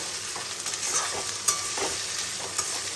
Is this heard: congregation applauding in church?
no